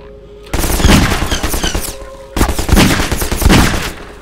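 Rapid automatic gunfire in the video game Half-Life 2, loud and close, coming in two sustained bursts separated by a short pause, with dense overlapping shots and no talk.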